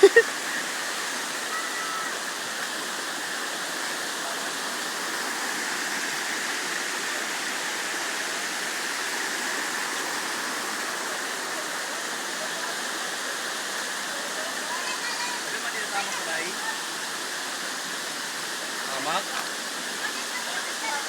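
Tabok Falls at Agbayang roars as a steady, even rush of falling water, a constant broadband hiss from nearby with faint shouts in the background.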